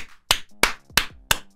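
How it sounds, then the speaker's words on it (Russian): Four sharp, evenly spaced claps ring out alone in a quick, punchy rhythm, an applause sound effect from the video game Castle Clash. "Аплодисменты, дамы и господа"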